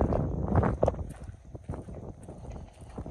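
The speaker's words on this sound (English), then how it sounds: "It's pretty windy now" Gusty wind rushes and buffets the microphone in uneven bursts, loud and rumbling, with faint background sounds underneath, outdoors in hot weather in Egypt.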